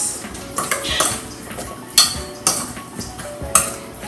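A utensil stirs Philly cheesesteak ingredients in a pan, giving scattered metallic clinks and scrapes against the cookware at an irregular pace, with no talking.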